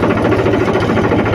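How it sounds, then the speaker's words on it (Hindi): A Mahindra 265 DI tractor engine idling steadily with a rhythmic low chug and rattle, close and loud, unchanging through the short stretch. "तो सबसे पहले हम ट्रैक्टर को स्टार्ट करते हैं"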